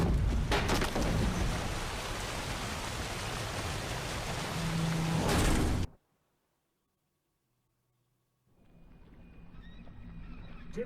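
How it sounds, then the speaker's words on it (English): Heavy rain pours steadily in a Witcher 3 storm, a dense, loud wash with a few sharp bursts, then cuts out abruptly into near silence before faint ambient rumble and rain creep back in. "Didn't bargain for no storm."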